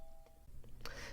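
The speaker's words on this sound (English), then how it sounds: "And that was my doorbell" A doorbell chimes indoors, a soft tone early on followed by a brighter ring near the end, both faint against a low background hum.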